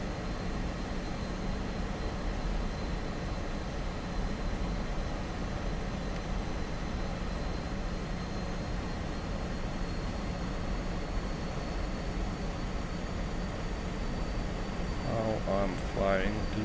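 A MiG-15 jet in the DCS flight simulator drones steadily in the cockpit on a slow downwind approach, a constant loud whine and rumble with a brief click near the end.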